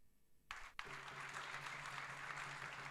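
An audience at a pan-African AI summit breaks into applause for a speaker; after a brief sharp sound, a continuous wash of many hands clapping follows, moderately loud and steady, with a faint hum beneath.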